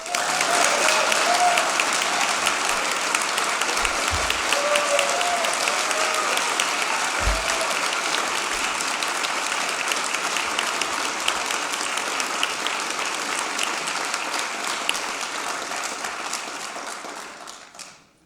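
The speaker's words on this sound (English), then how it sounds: "You got more applause than me." A large audience at Nevada Governor Joe Lombardo's State of the State address gives sustained, loud applause lasting around seventeen seconds, a thick roar of clapping with a few faint voices, before it tapers off abruptly.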